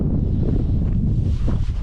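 Cold wind gusts roughly against the microphone on a hiking track at sunset, a low continuous rumble with no talking.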